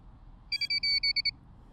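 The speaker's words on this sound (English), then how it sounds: "that beeping that we've just heard means that the GPS has a lock" A Tyrannus FPV quadcopter running INAV 7 beeps in a quick series of about eight short, high, bright tones over roughly a second, near and clear above a low background rumble, signalling its GPS has locked.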